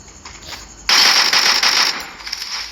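Rapid automatic gunfire in a video game, a loud burst of bright clattering shots starting suddenly after a quiet stretch and continuing in quick succession before tapering into a few scattered shots.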